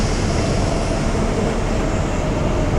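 A train in Train Simulator Classic rumbles steadily with dense, continuous rolling noise and a constant low drone as it draws into a station, with no clear squeal or pause.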